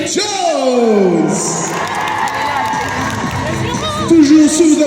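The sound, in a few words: audience applause and cheering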